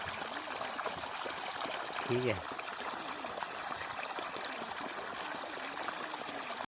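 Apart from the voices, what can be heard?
thin stream of water trickling from a clay pot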